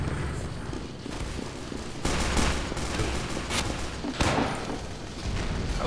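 Gunfire in the game Team Fortress 2 comes as repeated sharp shots and bursts over a busy, noisy battle backdrop.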